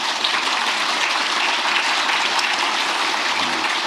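Audience at a workshop for senior government officials clapping, a dense, steady burst of applause from many hands lasting several seconds, with no talking over it.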